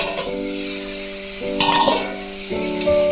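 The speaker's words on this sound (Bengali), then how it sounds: "ঢাকনাটা খুলে দেখি" A metal lid lifts off a pan of frying kohlrabi with bori, giving short clinks and ringing tones while a soft sizzle runs underneath.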